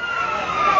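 A fire truck siren arrives at a fire in Quezon City, a steady loud wailing tone held close for under a second.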